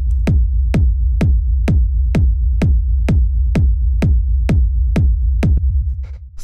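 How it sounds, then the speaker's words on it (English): Techno rumble kick drum sample: a steady four-on-the-floor pattern of punchy kicks, roughly two per second, each with a sharp click at the start over a continuous deep rumbling low end, loud and alone, fading at the very end. "This is just a straightforward rumble kick."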